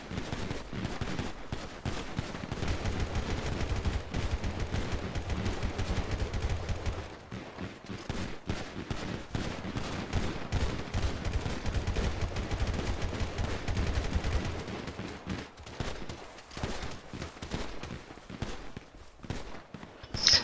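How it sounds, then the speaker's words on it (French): Handguns firing at a tower during a GTA roleplay game scene, with dense rapid volleys of sharp shots that thin out midway and then resume, sounding loud and continuous. "Allumez la tour avec vos armes de poing."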